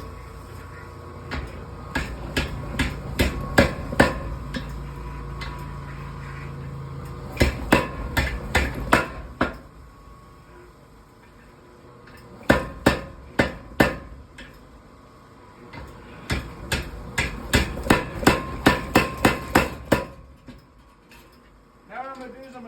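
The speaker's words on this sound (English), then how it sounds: "I'll go to the power hammer." Rapid bursts of heavy metallic pounding from a power hammer straightening a warped section of car spring steel, coming in several clustered runs separated by brief pauses, loud and close.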